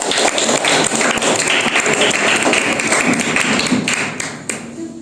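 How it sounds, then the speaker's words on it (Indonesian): Classroom applause from students at a junior high school, a burst of quick, close clapping and desk-tapping thuds that carries on steadily before tapering off near the end. "Tepuk tangan untuk karya Tata."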